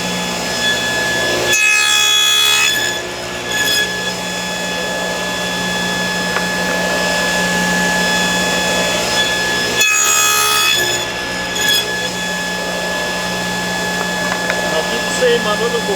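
A table saw cuts 3/8-inch box joints in a board, making two loud, brief cutting bursts several seconds apart over a steady, humming motor drone.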